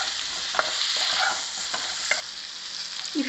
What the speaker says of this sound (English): Now fry it for 10 minutes.